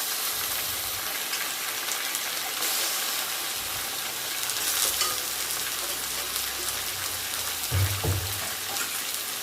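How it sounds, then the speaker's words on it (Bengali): Meat rubbed with salt and turmeric frying with browned onions in a pan, a continuous crackling sizzle with occasional clunks of stirring, no talk. "পেঁয়াজের সঙ্গেই মাংসটা একটু ভাজবো"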